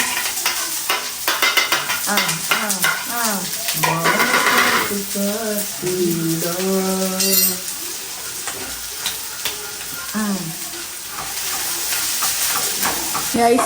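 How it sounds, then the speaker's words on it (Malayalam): Food being stirred with a wooden spoon in a nonstick pan, frying sizzle and scraping strokes running under a voice that talks over much of the clip. "ആ കൈയിലോട്ട് ഇളക്കരുത്, മരത്തിന്റെ കൈകൊണ്ട് ഇളക്കണം."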